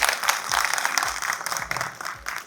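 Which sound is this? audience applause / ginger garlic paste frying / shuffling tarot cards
audience applause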